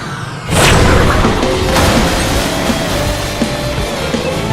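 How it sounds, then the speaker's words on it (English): A loud, close blast goes off as a stunt car jumps through an explosion in the video game Stuntman Ignition, then a sustained roaring rumble with crackling debris carries on for several seconds. "I'm gonna actually jump through the bomb this time"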